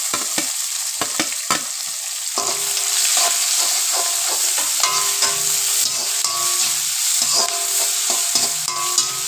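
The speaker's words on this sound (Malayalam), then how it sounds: "അരിഞ്ഞു വെച്ചേക്കണ സവാളയും ഇഞ്ചി പച്ചമുളക് ഇട്ടിട്ട് നമുക്കൊന്ന് വഴറ്റണം" Chopped onion, ginger and green chili sauté in hot oil with curry leaves in a pan for a bitter gourd curry. A constant loud sizzle runs throughout, punctuated by repeated sharp scrapes and clacks of stirring.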